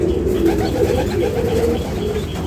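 Pigeons and pigeon chicks housed in a hot wooden loft give soft, steady cooing and murmuring, close to the listener, with no voices.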